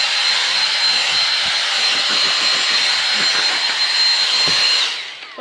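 A Dyson V6 cordless stick vacuum cleaner runs loud and steady with a high whine while sucking up biscuits, then powers down at the very end.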